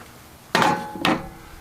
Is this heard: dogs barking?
no